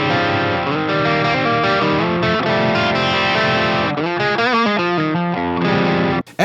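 Electric guitar played through a Synergy fuzz/distortion pedal, loud and saturated, with sustained chords and a run of quicker picked notes that end abruptly near the close. No one speaks.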